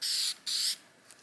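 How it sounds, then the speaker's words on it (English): K&N oil sprayed from an aerosol can onto an air intake filter for a 2022 Honda Civic Sport, two close hissing bursts separated by a brief pause, with no talk. "we're going to spray a little bit on here"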